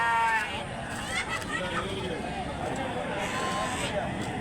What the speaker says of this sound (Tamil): அப்படியே இதில் ஃபுல்லாக நிற்கிறது வெள்ளாடுங்க தான்